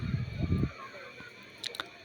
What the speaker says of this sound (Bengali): এই যে পানিটা দিয়ে ভালো মতন মিক্স করে নিচ্ছি